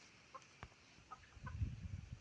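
Chickens clucking softly outdoors, a few short clucks scattered at a moderate distance before a burst of closer rustling and low thumps near the end.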